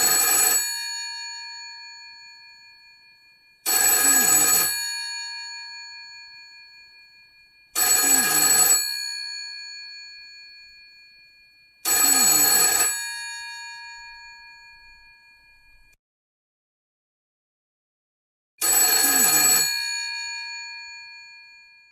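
Telephone bell on a radio drama set rings in five long bursts separated by pauses of a few seconds, each ring loud and bright, decaying slowly with no voices over it.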